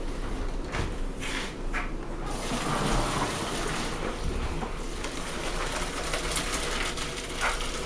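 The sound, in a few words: draining cooked pasta water through a colander in sink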